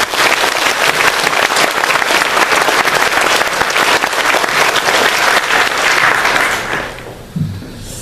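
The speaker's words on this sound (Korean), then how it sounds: "그분들을 위해서 박수 한번" A large church congregation applauds loudly and steadily, the clapping fading out near the end.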